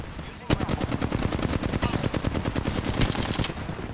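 Rapid automatic gunfire in a shooter video game rattles out in a continuous loud burst of sharp shots lasting several seconds.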